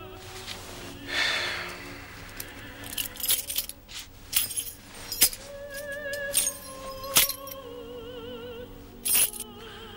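Keys jangle and clink in several short bursts close by, with metallic chinks scattered across a quiet room and no talking.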